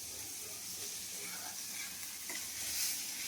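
Gobindabhog rice being stirred as it fries in ghee for payesh, a soft continuous sizzle with gentle scraping, fairly faint and close, with no voices.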